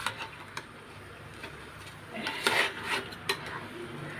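Rice for Sunday chicken joint biryani being stirred in a pot, giving soft scraping and clinking of a spoon against metal, mostly quiet with a few sharper knocks midway.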